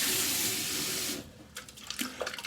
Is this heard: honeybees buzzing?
no